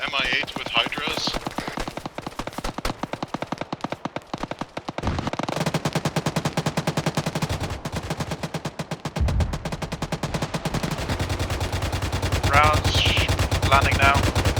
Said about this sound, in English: Getting strafed by an MI8 with Hydras.